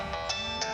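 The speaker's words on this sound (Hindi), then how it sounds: "मुझे अचानक से रश्मि का फोन आया।" A phone ringtone plays faintly and steadily, with a few soft chiming pulses repeating across the short moment.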